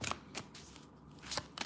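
Quick riffle bursts of glittery tarot cards being shuffled, a few sharp flurries separated by brief pauses, close and fairly quiet.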